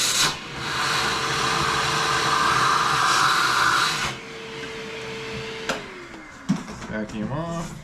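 A steady broadband whooshing hum of a shop vacuum cleaner runs loudly for about four seconds after drill press work, then cuts off, followed by quieter shop clatter and a brief voice.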